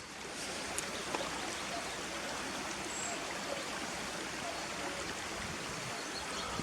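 A river flows through Harthope Valley near Langlee Ford farm, a steady, even rush of water that stays close and constant from start to end, with no other sounds standing out.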